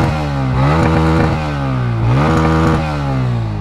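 Single-cylinder engine of a Bajaj Pulsar N160 motorcycle revving hard near 6000 RPM, loud and close, with two sweeping rises and falls in pitch and no talking.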